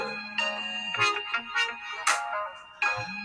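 A phone ringtone plays a bright melodic tune of repeated rising notes for a few seconds, fairly clear and alone, in a quiet room.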